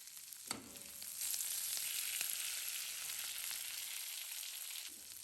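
Shrimp frying in a pan, a continuous crackling sizzle close by with scattered pops, steady throughout and briefly quieter near the end.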